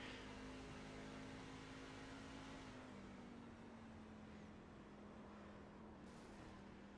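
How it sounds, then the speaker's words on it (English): A racing video game truck, the number 24 after taking damage to the rear, holds a steady engine drone that dips as it downshifts to third gear, then pulls away accelerating, loud and continuous with no voices. "You hear him lock it down, downshift to 3rd, and away he goes in that 24."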